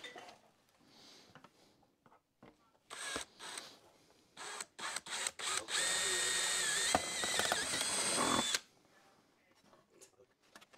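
A power drill or impact driver bolts parts together during a bagged mini truck build, running in short bursts and then one long sustained whine with ratcheting, close and loud, with no talk.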